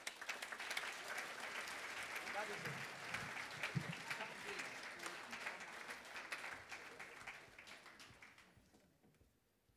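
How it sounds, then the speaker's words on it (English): A crowd applauds loudly at a Jewish wedding ceremony, the clapping dense and sustained before tapering off toward the end, with a brief spoken phrase over it. "Applause, please."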